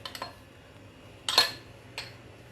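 A spoon stirring curd and milk in a bowl, giving a few light clinks and scrapes against the rim, the loudest one in the middle, close and quiet.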